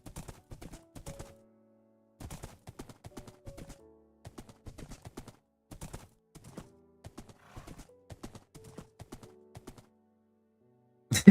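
A horse in Minecraft trots along with crisp, dry hoof clops in quick bursts separated by short pauses, close and fairly quiet, with faint tonal game sounds between the steps.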